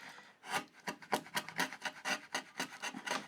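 A hand chisel pares wood to cut a rebate, giving a series of short, close rasping scrapes in a steady irregular rhythm, each stroke a brief dry shave across the grain, with no talking.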